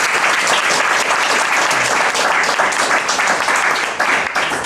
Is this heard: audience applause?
yes